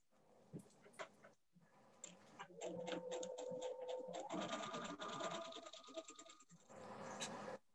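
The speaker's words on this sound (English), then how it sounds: "I'm gonna sew my first thing." A sewing machine runs a line of stitching at a 2.5 stitch length through stabilized fabric, a fairly faint, steady mechanical whir with rapid ticking that stops near the end.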